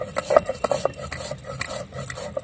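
Cumin seeds dry-roasting in a pan on a stone-ground setup for a Bengali mixed vegetable curry, heard as steady scraping and light metallic stirring taps, close and fairly quiet, with no talk.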